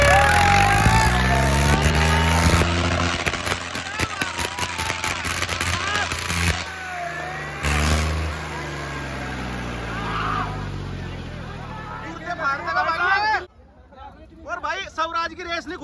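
A Sonalika tractor engine revs hard to 2200 RPM in a village, its loud pitch sweeping up and down with sharp bursts, while a crowd of voices chatters and shouts around it.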